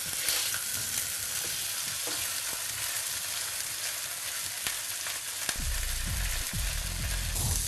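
Red mullet fillets flipped and frying in a pan give a steady, close sizzle throughout, with a few soft clicks and knocks of handling, and a louder crackle near the end.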